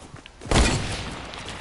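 A hunting rifle fired in a shooter game, one sharp loud report that booms and then trails off into a lingering echoing tail.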